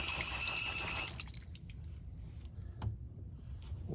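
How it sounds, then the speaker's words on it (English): Water runs, then drips while a valve is being washed out during a repair on a valve that won't shut off. A steady flow cuts off after a second, leaving faint trickles and a single drip. "A little water there."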